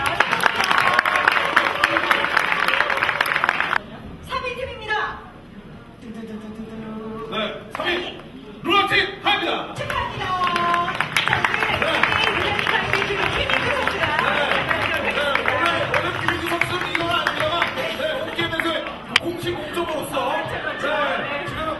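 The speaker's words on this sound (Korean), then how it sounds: "큰 박수로 환영해 주시기 바랍니다." Audience clapping and crowd noise at an award ceremony for a competition final, broad steady applause that briefly dips and then swells again, with a host talking over it through much of the stretch.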